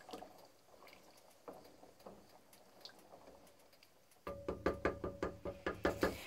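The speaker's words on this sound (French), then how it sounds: "Je vais touiller un petit peu, bien évidemment, pour mélanger avec ma cuillère en bois le bicarbonate." A wooden spoon stirs giant beans with bicarbonate in a pot on an electric hob, first faint scattered knocks, then a louder run of about a dozen rhythmic wooden clunks against the pot near the end.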